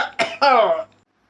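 An elderly man coughs, two rough throaty bursts, close and loud, then silence.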